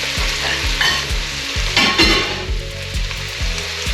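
Monkfish tail and white prawns sizzle loudly in a pan of hot oil for a fish rice, crackling steadily and close up with occasional stirring scrapes.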